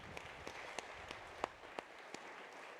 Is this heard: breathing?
no